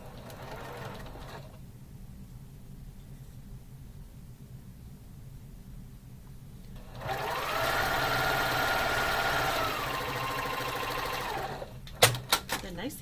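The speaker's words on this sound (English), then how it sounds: "I'm just going to flip this down onto itself and sew 1/4 inch seam" A domestic sewing machine runs a quarter-inch seam on quilt block pieces, a steady whirring hum lasting about five seconds before stopping with a few clicks, after a quiet stretch of room tone.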